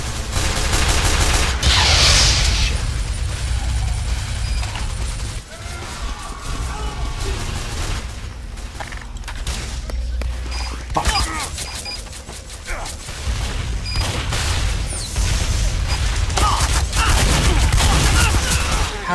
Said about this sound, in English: Shoot it 6 times with an RPG. RPG. Shotgun.